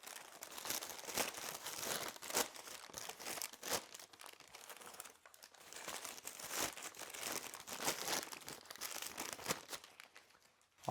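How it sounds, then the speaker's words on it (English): Crinkly packing paper is crumpled and pulled out of a box, a quiet, continuous rustling and crunching that pauses briefly midway before resuming, with no voices. "the first thing we're going to be taking out is our packing paper"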